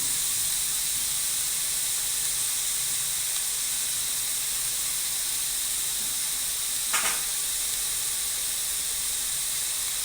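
Cabbage and egg stir-frying in a pan with turmeric, chilli powder and salt, a bachelor-style Tamil fry. A steady, close hiss of sizzling runs throughout, with a brief scrape of stirring near the end.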